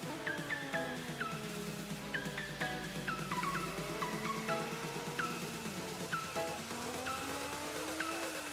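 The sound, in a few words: car driving in the video game Forza Horizon 4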